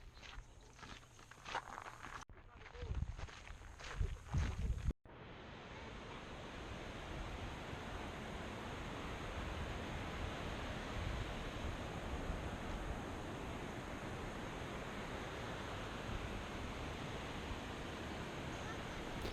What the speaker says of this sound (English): the powerful flow of water is unleashed from its rocky surroundings as the Orange River cascades down a 56-meter high waterfall